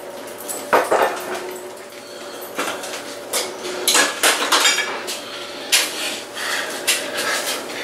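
A kitchen pan from under a stove clatters and clanks against other pans and dishes in a series of irregular metallic knocks and scrapes, moderately close with quiet gaps between bursts.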